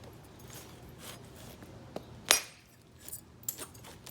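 A hammerstone or billet striking a flawed stone biface during flintknapping warm-up, a single sharp glassy clink standing out over faint handling noise and a few softer taps, quiet and close.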